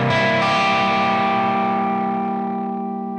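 A single distorted electric guitar dominant seventh chord rings out with effects, sustaining and slowly decaying over a few seconds.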